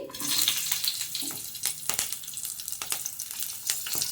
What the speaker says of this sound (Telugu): ఆయిల్ వేడెక్కాక ముందుగా పచ్చిమిర్చి